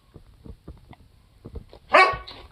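A dog barks sharply several times in a quick series, then lets out one louder, harsher bark close by, with no talking.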